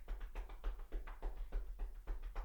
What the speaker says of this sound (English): Just knock all around that area.